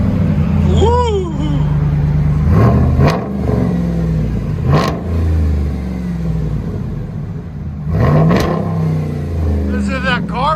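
A RAM 1500 pickup with the 5.7L HEMI V8 and a Carven exhaust with black 5-inch rolled tips revs loudly up close several times over a deep idle rumble, while people talk over it.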